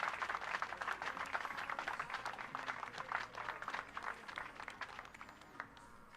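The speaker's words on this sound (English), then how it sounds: "Round of applause as they lead the field of play." Spectators applaud at a women's recurve archery national tour final, a continuous patter of many hands clapping, moderately distant and fairly soft, that thins out toward the end.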